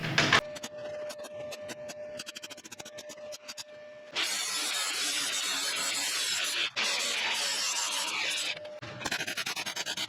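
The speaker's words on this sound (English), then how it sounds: "folded up a little plate for that, fits in like that, and trim to shape. Let's weld it in." A folded steel plate is MIG welded into the chassis leg of a Mk1 Volkswagen Caddy, with close crackling buzzing arcs in bursts, first a short one, then a long continuous run with a brief break, followed by choppier stitches.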